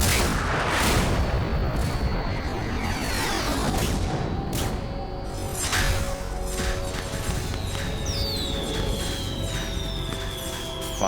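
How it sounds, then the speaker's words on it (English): Loud, dense video game combat in Metal Gear Solid 2: repeated stock explosions and bursts of gunfire with whooshing projectiles, continuous and close throughout. "oh god, I hate that stock explosion."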